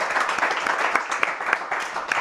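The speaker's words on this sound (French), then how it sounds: "Et on l'applaudit." Studio audience applause on a French live show, a steady patter of many hands clapping close by, with no speech over it.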